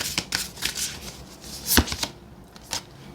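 Oracle cards being shuffled for a tarot reading make a quick run of crisp, papery flicks and riffles, close and distinct, with one sharper snap near the middle and no voices.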